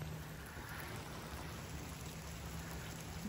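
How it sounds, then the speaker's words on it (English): Steady, dense hiss of rain falling and spattering on surfaces, continuous and fairly quiet throughout with no voices. "It's pouring rain right now."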